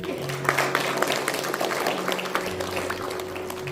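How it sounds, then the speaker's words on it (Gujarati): An audience at a Vaishnav religious discourse session claps for the organisers, producing steady, dense applause at moderate distance over a constant background hum. "અને આયોજકો માટે આપણે ખૂબ જ એક વખત જોરદાર તાળીઓ પાડી દઈએ."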